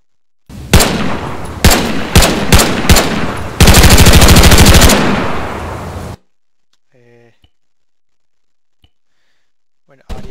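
SPAR rifle fire from the JSRS sound mod in a video game: several loud close single shots, then a sustained burst of rapid automatic fire, followed by near silence with faint soft sounds.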